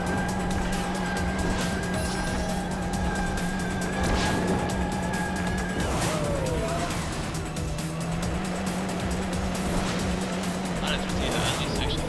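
Karts race and drift in Sonic All-Stars Racing Transformed, engines droning steadily while tire squeals and skids rise in brief bursts, with a player talking over the game sounds throughout.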